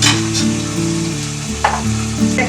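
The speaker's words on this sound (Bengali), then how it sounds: "তারপরে এই ডাঁটাগুলো দিয়ে একটু ভাজবো।" Vegetable stalks fry in a pan for a mixed Bengali vegetable dish, a steady close sizzle with faint stirring scrapes and no talk.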